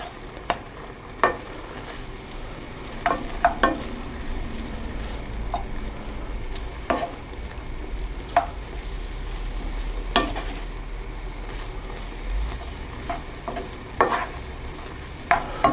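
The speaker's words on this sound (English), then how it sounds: "add in our tablespoon of flour and stir that in" Minced steak cooks in a pan as flour is stirred in, giving a low steady sizzle under repeated sharp scrapes and clicks of the spoon against the pan over several seconds, without talk.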